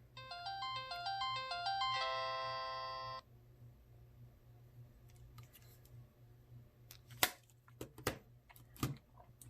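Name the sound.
Nokia mobile phone start-up tone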